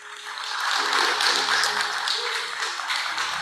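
A church congregation applauds Guilherme, a steady wash of clapping that swells and holds, moderately loud, with a faint musical tone beneath.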